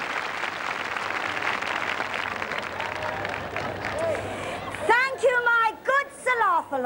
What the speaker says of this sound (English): With a hearty round of applause, if you please.